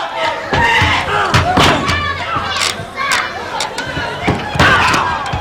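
A sharp boot kick to the back of the neck thuds amid crowd noise in a women's pro wrestling arena, with several heavy slams and commentary voices over it.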